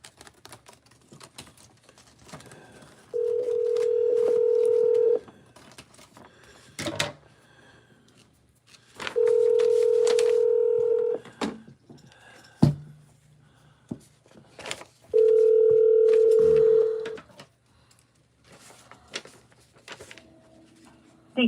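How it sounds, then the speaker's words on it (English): A smart speaker places a phone call, with three long, even ringing tones spaced several seconds apart, separated by small clicks, knocks and faint background voices. "Calling Sweetie PD's mobile."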